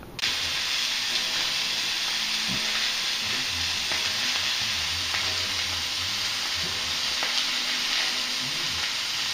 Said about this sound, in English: That's steaks cooking, making that noise.